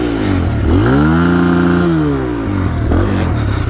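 A flooded snowmobile engine is revved hard while gas is pumped through it: a loud, close, buzzing two-stroke whine climbs in pitch, holds, then falls away before picking up again.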